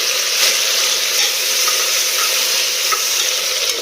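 Chopped tomato pieces frying with browned onions in a pressure cooker for prawn pulao, a loud steady broadband sizzle that carries on evenly without pause.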